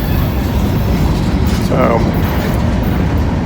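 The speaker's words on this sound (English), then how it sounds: "This appears to be a pretty long train for them." A long freight train rolls past close by on a railroad line, giving a steady, loud rumble and rail roar that holds evenly throughout, with a brief spoken word over it.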